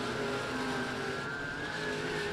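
A dirt-track race car, the 7T machine driven by Ricky Thornton Jr., roars steadily down the back straightaway at night, its engine a loud continuous drone with a sustained high whine over dense broadband noise.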